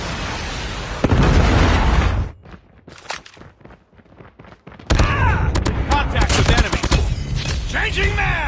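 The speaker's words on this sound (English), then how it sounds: "Predator missile inbound." A Predator missile strike lands in a Call of Duty match: a loud roaring blast that cuts off abruptly, a quieter stretch of scattered pops, then another loud burst of explosions and gunfire with a voice talking.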